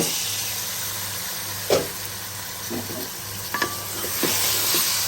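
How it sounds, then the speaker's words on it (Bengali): Loitta fish dropped into a hot pan with green chilies, setting off a steady sizzle and hiss with a few sharp spatters and clinks of a wooden stick against the pan, moderately close with no talking. "জাল একটু বাড়িয়ে দিচ্ছি মাছটা দিয়ে দিচ্ছি"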